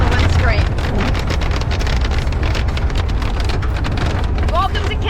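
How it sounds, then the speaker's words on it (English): Ice pellets pelt a car windscreen during a drive in Canada, a dense, steady patter over a low rumble of road and wind noise, continuing for several seconds. "Big spots of ice just hit the windscreen."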